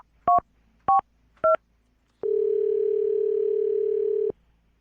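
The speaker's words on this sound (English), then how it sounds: "I'll dial this phone number right now" Three short telephone keypad tones are dialed one after another, then a steady dial-style tone holds for about two seconds and cuts off, clear and close with no talk.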